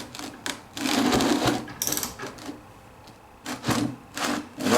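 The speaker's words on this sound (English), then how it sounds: "I got the ratchet this time instead of using a adjustable wrench." A ratchet clicks in quick bursts while working on a Kawasaki Vulcan 900 motorcycle raised on a jack stand, loud and close, with short rasping runs separated by brief pauses.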